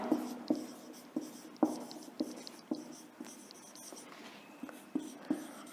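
A teacher writes on a board in a classroom, chalk or marker tapping and scraping in short, irregular strokes, about a dozen distinct taps, fairly quiet with no talk.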